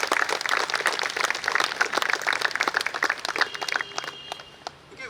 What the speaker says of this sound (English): it calls for a huge round of applause for all of them